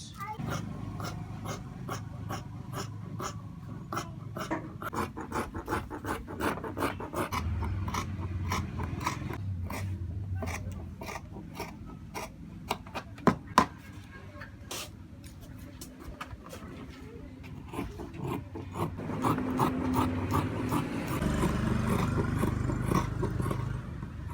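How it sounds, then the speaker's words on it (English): Shears cutting out English trouser cloth snip repeatedly in a steady, close rhythm of crisp clicks, pausing briefly and then resuming over a low room hum. "So the next thing I'm going to do now is I'm going to cut."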